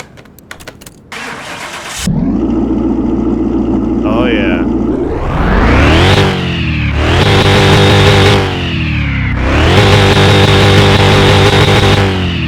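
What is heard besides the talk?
pickup truck engine starting and revving, video game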